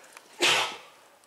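A single sharp sneeze, close and loud, a brief explosive burst that fades quickly in a quiet room.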